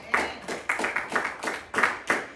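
A church congregation claps in a steady rhythm: about six sharp, evenly spaced claps, fairly close and clear, with no talking over them.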